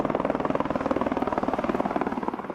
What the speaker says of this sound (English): 80 helicopter flights take Davidson and more than 100 other climbers from the upper mountain back to base camp